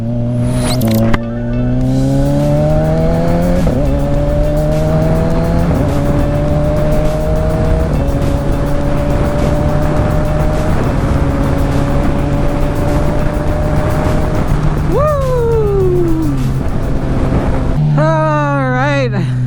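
A motorcycle cruising along a road on a sunny day drones loud and close, its engine pitch climbing and dropping through several gear shifts, with wind rush throughout and a brief revving burst near the end.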